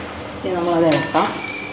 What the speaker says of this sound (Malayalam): നമ്മളത് ഇളക്കാം.